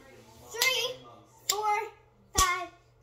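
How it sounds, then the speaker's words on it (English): Three sharp, close hand claps spaced about a second apart during a children's contortion and tumbling routine, each followed by a voice speaking. "You clap"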